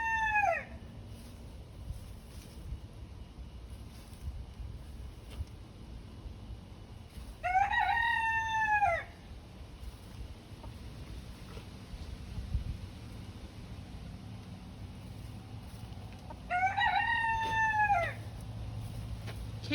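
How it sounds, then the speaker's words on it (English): Backyard roosters trade crows, three full cock-a-doodle-doo calls spaced several seconds apart, clear and fairly close over a low outdoor background. "Come on, big man, are you gonna crow back at him?"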